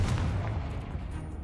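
A Confringo fire-blast spell explodes in the Hogwarts Legacy video game, a deep booming rumble that starts loud and fades slowly over a second and a half with no voices.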